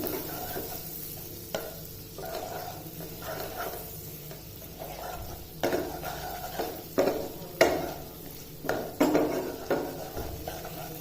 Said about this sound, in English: Saute this in the butter for about a minute